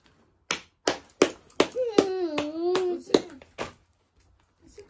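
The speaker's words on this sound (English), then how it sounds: "Clap for the edit." A child's hands clapping in a home at Christmas, several sharp separate claps in a loose rhythm, close and fairly loud, with a voice speaking in the middle.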